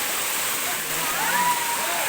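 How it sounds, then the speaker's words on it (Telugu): Kitiki waterfall plunging from a great height, a steady broadband rush of falling water filling the whole clip with no letup. "కిటికీ వాటర్ ఫాల్స్ 300 ఎత్తుల నుంచి పైనుంచి వాటర్ పడుతుంది"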